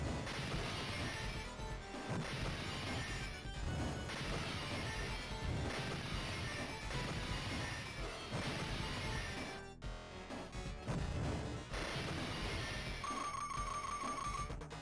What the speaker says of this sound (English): Break glass.